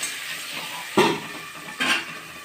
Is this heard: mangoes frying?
yes